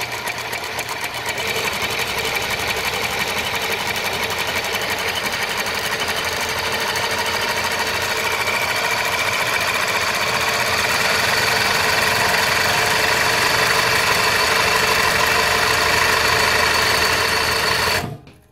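A New Tech GC-20U83 zig zag lockstitch sewing machine runs continuously at high speed, a steady loud mechanical whir with dense rapid stitching that stops abruptly at the end.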